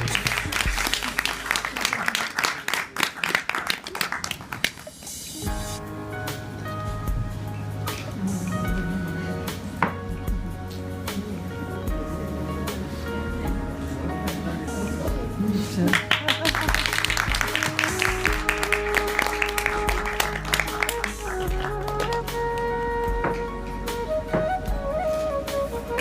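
Bursts of loud applause break out from an audience at a prize distribution ceremony, strongest at the opening and again midway, mixed with music and a voice talking over the hall.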